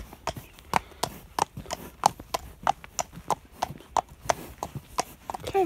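A mare walking on a hard surface during a hack, her hooves giving a steady, evenly spaced clip-clop that sounds close and fairly crisp, with a little quiet background noise.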